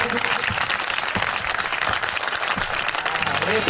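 A church congregation claps for God in a strong, continuous burst of applause from many hands, dense and close, with voices mixed in.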